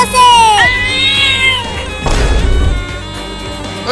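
A cartoon kitten gives a high, sliding meow, then a second shorter mew, loud and close, followed by a crashing thump, with voices speaking around it.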